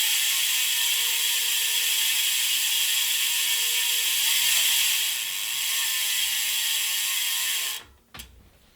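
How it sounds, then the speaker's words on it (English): Freehub ratchet on Zipp 404 Firecrest bicycle wheels spinning, a fast continuous buzzing click that holds steady for several seconds, then stops abruptly with a short clatter near the end; close and loud with no voices. "Free hub sound test on the Zipp 404 Firecrest wheels."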